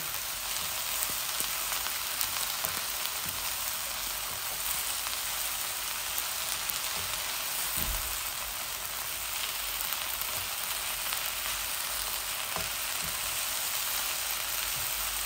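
Bottle gourd shoots and tender leaves frying in a pan produce a dense, even hiss like steady rain, close and unbroken for the whole stretch.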